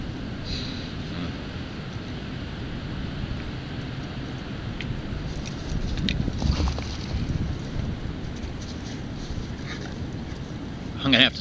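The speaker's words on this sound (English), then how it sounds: "my dogs are starting to get rambunctious" Dogs whimpering and giving occasional yips indoors, faint and intermittent beneath steady background noise and someone talking, with a brief louder bark near the end.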